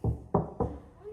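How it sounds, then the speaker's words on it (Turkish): Three firm knocks on a door, close and evenly spaced, each ringing out briefly before the next, with no voices. "Kapıyı çalalım."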